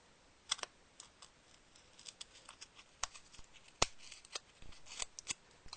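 Scissors cut paper to shape paper roses, with a string of quiet, close, irregular snips and crisp clicks in an otherwise hushed room.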